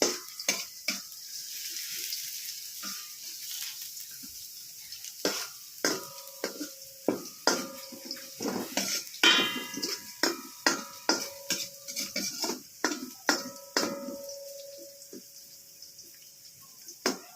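Garlic and ginger sizzle in a frying pan while a utensil stirs and scrapes, a series of close, sharp clinks and scrapes over a soft, steady frying hiss.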